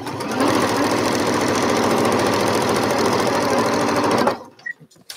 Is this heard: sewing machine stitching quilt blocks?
yes